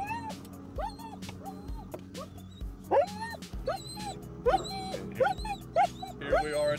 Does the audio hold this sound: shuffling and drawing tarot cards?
no